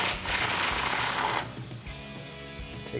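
A power ratchet or impact tool whirs loudly for about a second and a half while removing a 10 millimeter bolt near the brake caliper on a 2005-2014 Mustang GT, then quieter clinking follows.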